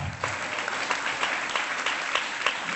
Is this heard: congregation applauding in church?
yes